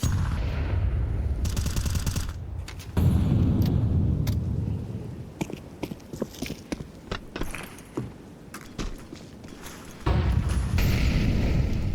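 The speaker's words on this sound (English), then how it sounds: "that's a massive nade right on top of HFA and Flay." Explosive bursts and rapid gunfire from a Counter-Strike esports match, with a heavy low boom near the start and another near the end, scattered sharp shots in between, all loud and continuous.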